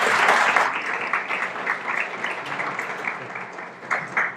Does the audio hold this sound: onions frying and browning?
no